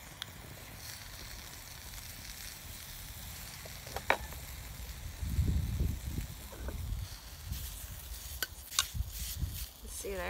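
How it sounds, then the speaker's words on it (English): Sausages sizzle and crackle over a burning stick fire in a KIHD stick stove outdoors in the woods, a steady close frying hiss with scattered pops and clicks. "The sausages are getting cooked. They certainly are cooking."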